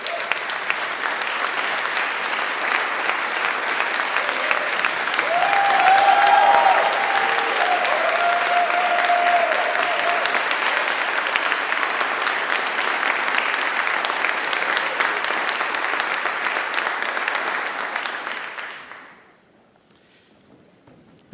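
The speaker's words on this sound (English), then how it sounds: "please stand up so that we can give you a warm round of applause" A warm round of applause at a graduation ceremony for the IMD EMBA class, a large hall of hands clapping steadily and loudly for about eighteen seconds before fading out quickly into near silence.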